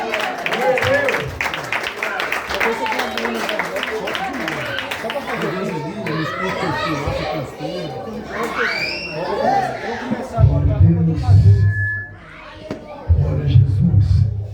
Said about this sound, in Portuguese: Vamos receber o pastor Laupilani com aquelas palmas bem alegres a Jesus.